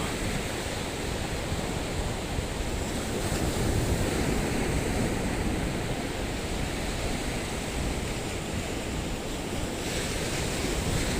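Strong wind roars steadily across the microphone beside a river with mountains in view, a dense unbroken rush lasting the whole stretch with no voices.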